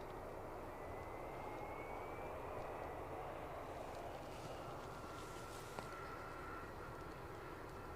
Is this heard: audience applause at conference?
no